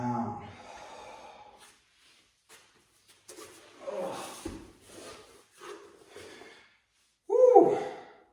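Deep, slow breathing during a karate full-body stretch, a couple of soft breaths and an audible exhale at the close, heard near and quiet amid pauses.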